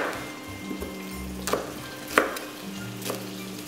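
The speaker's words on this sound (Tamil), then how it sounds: "சிக்கனை நாங்கள் ஆயிலில் போட்டு ஃப்ரை பண்ணிக்கிறோம்" Chicken pieces fry in oil with a low, quiet sizzle, broken by three sharp utensil knocks or stirs at intervals, near and otherwise calm, with no speech.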